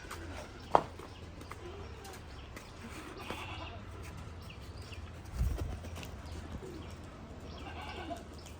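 Rajshahi Giribaz pigeons coo softly in a noisy outdoor setting, their low calls faint and partly buried under a steady background rumble, with a couple of brief knocks.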